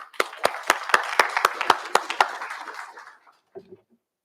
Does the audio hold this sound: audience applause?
yes